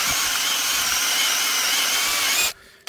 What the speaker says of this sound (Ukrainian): Щоб заробити гроші, рішив свердлити дюрки.